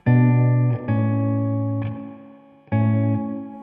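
Sustained guitar chords through a Blackstar Dept. 10 AMPED 2 spring reverb ring out with a springy, slightly splashy, fairly short tail, struck three times with short gaps between them, loud and up close.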